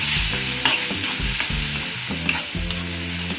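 Apple with sugar is sautéed in a pan, with a close, loud sizzle under repeated rhythmic scraping strokes of a spoon stirring the fruit, and no talk.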